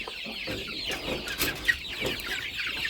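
Bantam hens and chicks cluck and peep in a summer yard pen as the chicks are driven toward their enclosure, a steady busy chatter of several birds close by.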